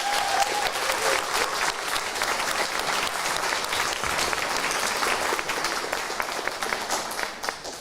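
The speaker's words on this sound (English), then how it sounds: "I would like us to take a moment to applaud all those groups" An audience at a learning disabilities and autism leaders' awards ceremony gives sustained, even applause, many hands clapping at once in a room for about eight seconds.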